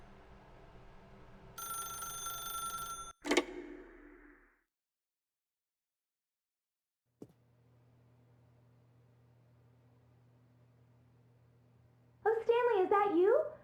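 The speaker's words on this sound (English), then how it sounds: "then pick up the phone" A telephone rings in the video game The Stanley Parable: Ultra Deluxe. A bright electronic ring and a sharp click come early, then near silence and a low hum, and a person starts talking at the end.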